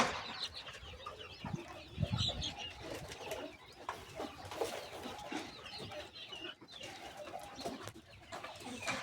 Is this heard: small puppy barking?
no